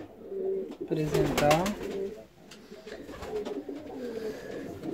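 Fancy pigeons, Indian and Saxon breeds, cooing nearby in rolling throaty bursts, with a person talking over them.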